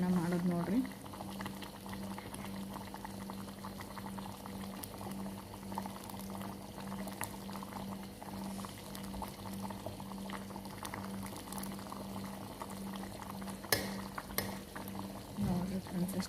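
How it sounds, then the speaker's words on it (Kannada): Liquid in a pot bubbles at a steady, continuous rolling boil, with occasional clinks of a utensil against the pot and a voice speaking briefly near the start and end. "ಈಗ ಅದು ಕುದಿಯಾಕ ಬಿಡಾಕೊಂತೀನಿ ರೀ"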